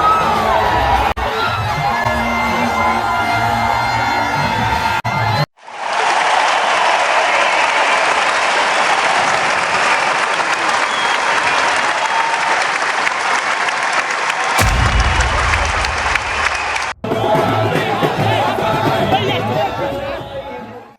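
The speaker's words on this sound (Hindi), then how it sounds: "उनकी रैलियों में भारी भीड़ आ रही, लोग उन्हें सुनने और मिलने दूर दूर से आ रहे हैं" A large crowd at a political election rally in Bihar applauds and cheers loudly, with sustained clapping, shouts and excited babble that break off sharply and resume.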